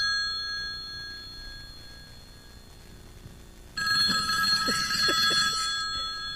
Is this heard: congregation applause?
no